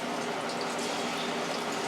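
Sliced plantains frying in olive oil in a frying pan produce a steady, even hiss that holds at moderate volume throughout, with no voices.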